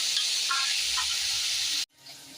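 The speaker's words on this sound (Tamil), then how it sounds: "இது நல்லா இந்த எண்ணெயிலே வதக்குவோம் ரெண்டு நிமிஷம் நல்லா இதுவே வதங்கட்டும்" Onions and eggplant sautéing in hot oil in a pan, a steady close sizzling hiss that cuts off abruptly near the end, then a quieter hiss returns.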